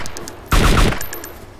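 Rapid burst of automatic gunfire in DayZ Standalone, likely an AK74: three or four sharp, loud shots in quick succession, close and punchy, followed by a fading tail and faint distant clicks.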